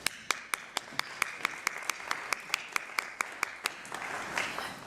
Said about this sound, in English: So, I applaud to you.